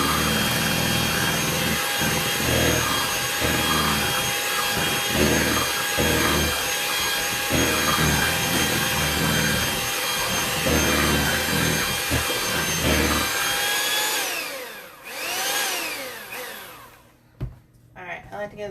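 An electric hand mixer with beaters whirs steadily through banana pudding for about fourteen seconds, its motor whine rising and falling in pitch before it cuts off, followed by a few scraping knocks.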